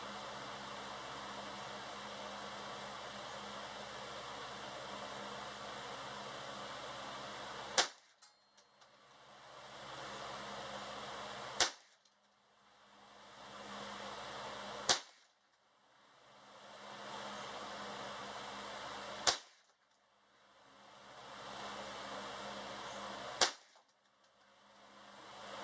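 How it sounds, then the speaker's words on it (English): A Ruger 10/22 Takedown rifle fires at a target, five sharp cracks spaced a few seconds apart over a steady outdoor hum, each followed by a brief quiet. "shoot the target again. I'm just going to aim at the center dot."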